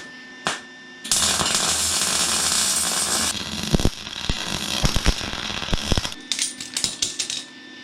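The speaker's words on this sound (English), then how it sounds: "I'm going to get a couple of more beads of weld up on the top here so I can take that strap off." A welder running beads of weld onto the top of a metal strap: a steady crackling, sizzling arc for a couple of seconds, then sharp clanks and taps of metal, close and fairly loud.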